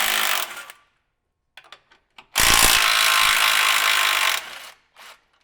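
A hitch wiring bracket is removed with a hand ratchet, heard as short bursts of rapid clicking close by, separated by brief silences and small clinks.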